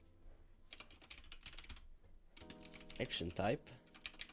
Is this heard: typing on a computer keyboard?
yes